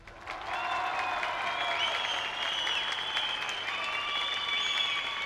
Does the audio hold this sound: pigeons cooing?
no